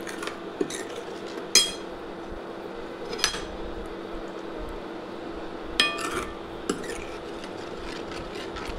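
Pan and utensil sounds while sautéing in oil for a masala gravy on low flame: a low steady sizzle with a few sharp metallic clinks and scrapes spaced apart, moderately close.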